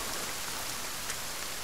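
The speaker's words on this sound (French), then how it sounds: "La pluie" Rain falls in the survival video game The Forest, a steady, even hiss of raindrops throughout, moderately loud, with no talk.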